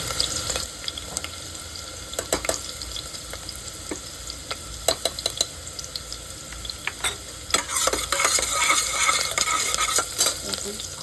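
Onion and ginger-garlic-chili paste fry in hot oil for a veg biryani, a continuous close sizzle punctuated by sharp spatula scrapes and clicks that grow busier toward the end.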